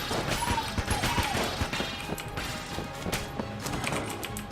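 Rapid bursts of gunfire from a transforming gun in the video game Enter the Gungeon, dense crackling shots layered over game effects, loud and continuous with little pause.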